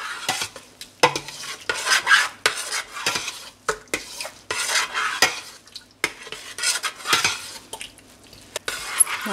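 A spoon stirs okra and peanut sauce in a pot with repeated scraping and clinking strokes against the metal and a faint sizzle underneath, close and uneven in rhythm.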